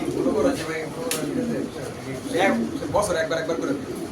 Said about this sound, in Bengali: এই কবুতর অনেক দিন পরে দেখলাম ভাই